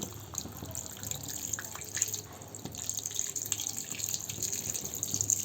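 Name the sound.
hot water poured into curry pot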